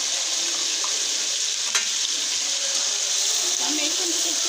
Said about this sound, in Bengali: এখন এটাকে ভেজে নিচ্ছি খুব ভালো করে